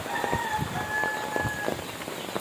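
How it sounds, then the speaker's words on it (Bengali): Steady rain patters down outdoors, a soft continuous hiss with scattered drop taps and faint birds calling in the background. "বৃষ্টি আসতেছে, ভালোই বৃষ্টি আসতেছে।"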